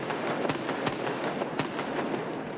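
Starting guns fire rounds at a rowing race, several sharp overlapping cracks spread over a few seconds, heard at a distance over an outdoor background.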